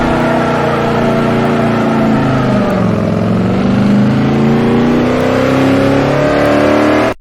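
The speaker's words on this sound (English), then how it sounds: "Please get us in the car and drive us to South Africa." A 1962 Lincoln Continental being driven, its engine a loud, steady drone throughout with a rising and falling pitch as it revs, then cutting off abruptly at the very end.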